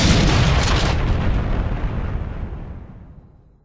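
A torpedo explosion, as a medieval Middle Eastern weapon: one loud, close blast that rolls into a long, rumbling roar and fades away over several seconds, with no voices.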